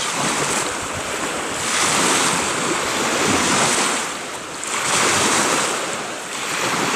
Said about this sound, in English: Because it's a little windy.